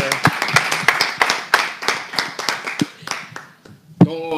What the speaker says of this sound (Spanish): Pues un aplauso para Diana Sánchez